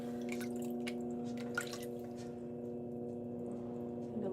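Water drips and trickles beside a potter's wheel as clay is thrown, light irregular drops over a steady low motor hum, with no voices.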